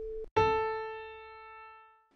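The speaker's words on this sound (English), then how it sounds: "Now take a listen to this piano at 440 hertz." A single piano note at 440 hertz is struck once, ringing with a bright attack and slowly decaying sustain, heard alone after a brief tail of a preceding tone.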